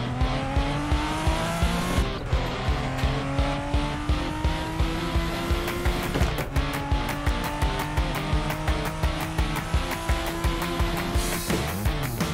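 Video-game Toyota Supra race car weaving through heavy traffic, its engine droning with rapid gear-shift pulses and brief tire squeals, loud and continuous.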